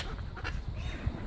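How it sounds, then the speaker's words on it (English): Ducks quack behind a group feeding seagulls outdoors, a few short calls at moderate distance over steady background noise. "Did you notice the ducks behind us?"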